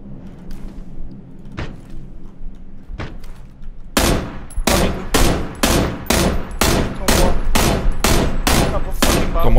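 Video game gunfire: a few scattered shots, then loud rapid bursts of automatic fire that keep going to the end.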